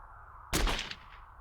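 A single gunshot in the visual novel game Chaos;Head Noah: one sharp, loud blast that cuts in abruptly and fades through a short rumbling tail, with no talking.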